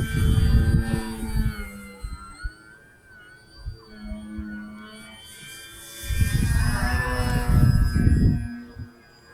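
An Arrows RC Tecnam model airplane's electric motor drones and whines, fading to a distant hum before swelling back loud as it passes close again, flying inverted.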